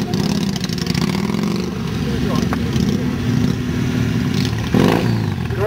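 A Yamaha Virago motorcycle from an owners' club parades past at a motoring pageant in Bath, its engine rumbling steadily at close range, with an announcer speaking over the engine.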